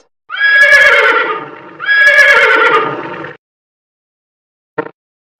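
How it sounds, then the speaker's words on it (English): A horse gives two long, loud whinnies in succession, near and shrill with a trailing shudder, then a short sharp knock after a brief silence; no voices. "horse"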